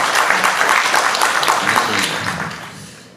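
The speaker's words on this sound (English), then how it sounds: "Hey, round of applause for her." Applause for a contestant at a live marketing podcast taping, steady crowd clapping that holds for about two seconds and then fades away.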